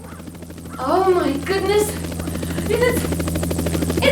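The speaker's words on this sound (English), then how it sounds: "Do you hear that? It sounds like a helicopter." A steady, droning helicopter hum carries through, with a person speaking excitedly over it.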